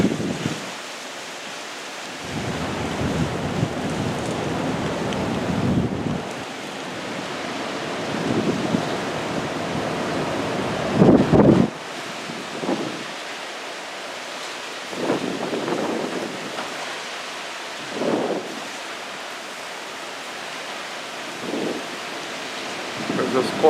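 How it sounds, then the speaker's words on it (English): Tropical storm Isaias lashing Ocean City, Maryland with a squall line: steady roaring wind and rain with surf, broken by louder gusting surges, the loudest near the middle, and faint talk in places. "There's a squall line approaching."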